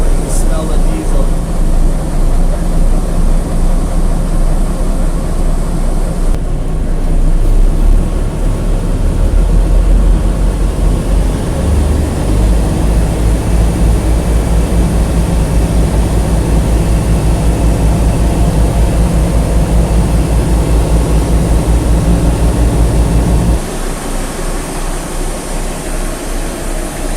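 Antique diesel train engine idling steadily after its first start in over two years in Canada, a continuous low rumble close by that drops slightly in pitch near the end.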